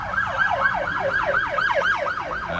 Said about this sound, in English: This isn't good. 2 ambulances.